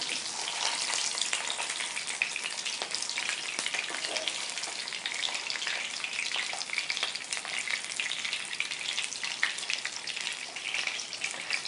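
Garlic fish frying in a shallow pan, a dense, continuous hiss and crackle of hot oil that holds steady throughout without any voices.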